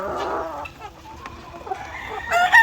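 White leghorn chickens in battery cages cluck and squawk together close by, with a rooster-like call rising near the end, steady and busy without any talking.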